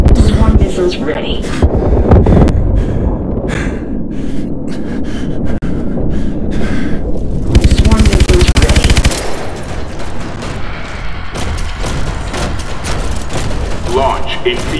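Main gun fire in Call of Duty: Advanced Warfare comes as loud, rapid bursts of heavy gunfire with booms and thuds, layered under a synthetic announcer voice and continuous battle noise.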